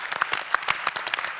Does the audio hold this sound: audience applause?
yes